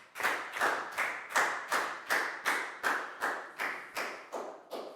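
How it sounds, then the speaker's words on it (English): Year 4 science class clapping for a student in rhythmic unison: about a dozen even, loud claps in a steady beat, nearby, with no talk over them. "High five and a big round of applause for Chu"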